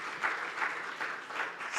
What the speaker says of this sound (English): let's give a round of applause to them once again.